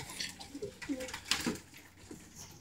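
Racing pigeons in a breeding loft coo softly nearby, several low, throaty calls rolling out in short bursts against a faint background.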